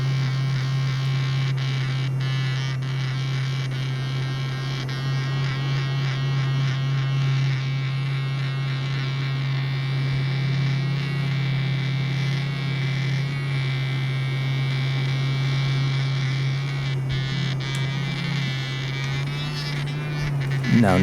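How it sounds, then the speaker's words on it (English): A percussion massage unit buzzes steadily and continuously at close range, a constant motor drone with light rattling on top, with no speech over it. "the percussion unit is doing its thing"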